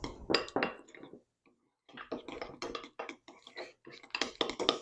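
Garlic paste is stirred into a butter-based sloppy joe mixture with a utensil, giving irregular clinks and scrapes against a pan or bowl in short bursts with a brief pause.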